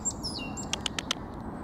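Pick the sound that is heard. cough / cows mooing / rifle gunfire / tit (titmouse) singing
tit (titmouse) singing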